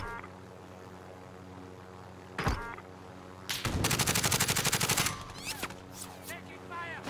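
A rapid burst of automatic gunfire in Call of Duty: Modern Warfare, loud and close, following a single sharp shot, with scattered clanks and game effects around it.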